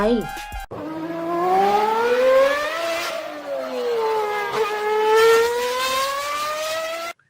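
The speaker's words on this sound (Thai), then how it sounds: "เสียงรถมอเตอร์ไซค์นั่นเองนะคะ" A motorcycle engine revs up and down with a smooth rising and falling pitch, loud and close throughout, after a brief electronic tone at the start.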